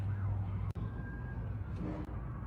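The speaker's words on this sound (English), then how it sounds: "You can also hear those sirens in the background as well." Emergency vehicle sirens sound in news footage of a Florida college shooting, a steady distant wail buried under a dense crowd and street noise with no clear speech.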